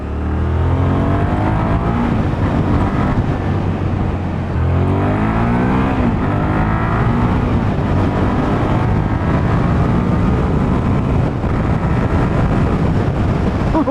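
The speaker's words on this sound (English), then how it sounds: "Oh, this bike is running so good." A 24-year-old Suzuki SV650 S motorcycle on the road: its engine drones loud and steady, rising and falling in pitch as it accelerates and shifts, mixed with heavy wind rush throughout.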